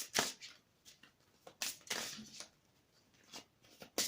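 Tarot cards shuffled in quick, papery riffles and slaps, several bursts close and fairly quiet, with no talk over them.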